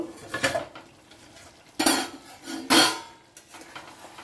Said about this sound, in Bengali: এবারে ঢাকাটা আমি খুলবো।